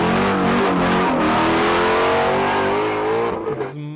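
Motorized LEGO Shelby car in a drag race, its engine sound a loud, steady, high-pitched revving whine that rises slightly in pitch and then cuts off abruptly near the end.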